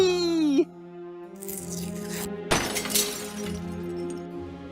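Stained glass window shattering in the video game Deponia Doomsday: a sudden loud crash and spray of tinkling shards, following a falling wail and set over a sustained musical drone.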